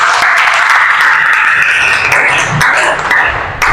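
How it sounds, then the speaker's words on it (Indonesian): Classroom applause from students after group presentations in a Quran Hadith lesson, a dense, steady burst of many hands clapping together, loud and close, with a few sharper taps near the end. "tepuk tangan untuk kita semua"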